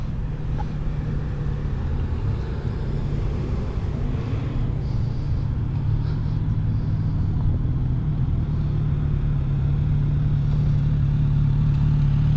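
A 2023 Kawasaki Z900 RS café motorcycle ridden slowly in low gear, its engine a steady close rumble with continuous drone and no voices.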